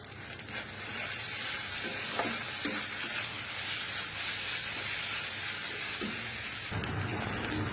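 Masala being stirred and fried in a pan, a steady loud sizzle with hissing steam and scraping stirs throughout, no talking.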